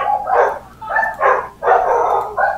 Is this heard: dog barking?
yes